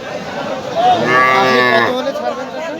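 A young heifer moos loudly at a busy village cattle market in Katihar, one long drawn-out call rising over a murmur of nearby chatter.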